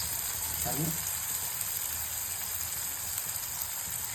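Brinjal (eggplant) pieces fry in hot oil with a continuous close sizzle and fine crackle, steady throughout, with a brief voice early on.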